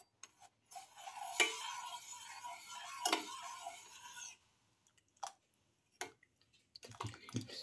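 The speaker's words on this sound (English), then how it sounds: "Mix in the milk." A spoon stirs milk into cardamom and star anise tea in a cup, giving a soft swirling liquid sound with a few light clinks, followed by scattered quiet taps and drips, close and faint.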